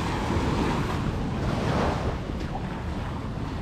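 Waves washing along a long beach shoreline, a broad, continuous rushing roar of surf with wind buffeting the microphone, steady and fairly loud throughout, with no talk.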